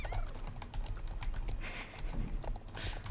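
Horse hooves clip-clop in the video game Star Stable Online, a quick run of crisp hoof clicks with light clatter, fairly close and without talk.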